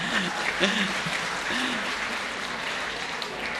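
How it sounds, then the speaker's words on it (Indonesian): Audience applause at a Politeknik Pekerjaan Umum graduation ceremony, a steady wash of clapping from the hall with faint voices and a few brief murmurs mixed in. "Tepuk tangan buat kita semua"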